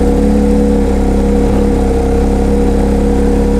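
A Porsche GT3 Touring engine runs at a loud, steady idle close by, a constant low mechanical drone with no revs or pauses and no voices over it.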